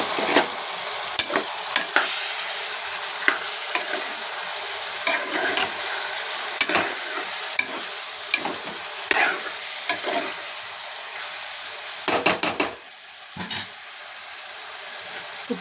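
Chicken hits hot oil with fried onions and green chillies, a loud, continuous sizzle broken by sharp scraping clicks of stirring, with no voices.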